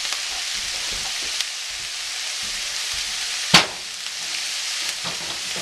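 Ground beef frying in a pan, a steady close sizzle broken by a few faint scraping stirs and one sharp clink of a spatula.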